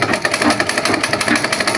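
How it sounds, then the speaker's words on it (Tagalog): A treadle sewing machine is pedaled by foot, giving a steady, rapid rhythmic whirring and clatter close up, with no voices. "Ang pagpadyak ng makina sa pananahi ay paganon-ganon lang."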